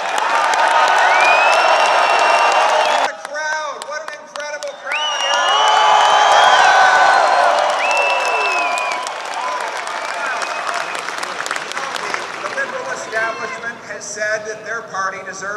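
An election rally crowd in Stoney Creek cheers, whoops and shouts in a dense, loud roar with clapping mixed in, surging and easing over fifteen seconds while voices call out across the room.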